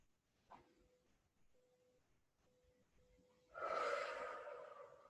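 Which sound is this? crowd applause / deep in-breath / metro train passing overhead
deep in-breath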